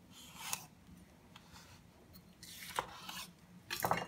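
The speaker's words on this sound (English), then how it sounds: "let's cut this baby open." A knife slices into a Galia melon's netted rind, giving a few short scraping, crunching cuts in close, quiet surroundings, with the louder strokes near the end.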